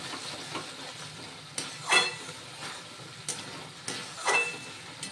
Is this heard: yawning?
no